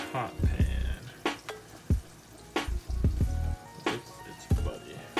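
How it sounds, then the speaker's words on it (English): Chicken pieces fry in hot oil with a steady, close sizzle and crackle, broken by repeated clattering bumps and scrapes of utensils and pans, with no voices over it. "while our chicken is frying in the oil"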